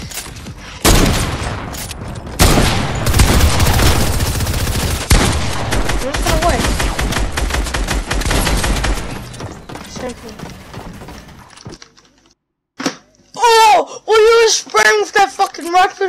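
Rapid gunfire in the video game Fortnite, dense bursts of shots for about nine seconds, loud and close, followed by quieter game sounds and a short stretch of talk.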